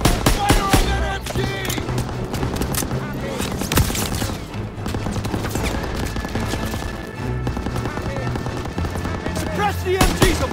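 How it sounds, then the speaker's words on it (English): Sustained machine gun fire in the Call of Duty WWII battle for Hill 493 rattles on loudly and continuously, with overlapping bursts and crashes in a dense, chaotic mix. "Fire on that MG!"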